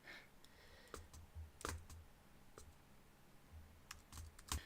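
Quiet bursts of typing on a computer keyboard, scattered clicks and short runs of keystrokes with brief pauses, close and soft against a faint background hum.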